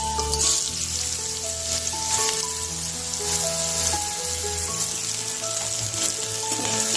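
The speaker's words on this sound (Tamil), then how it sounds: "எண்ணெய் காஞ்சிச்சுன்னா பீர்க்கங்காய் போடுறேன்" Ridge gourd dropped into hot oil in a pan sizzles and fries steadily, a continuous hiss with faint stirring under a background of tonal music.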